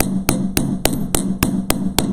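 A hammer falls repeatedly onto metal resting on a bench block, making about eight sharp, evenly spaced metallic taps close by with a steady rhythm.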